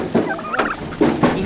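A turkey gobbles up close in a farmyard with goats and chickens, a loud warbling call repeated twice in quick succession.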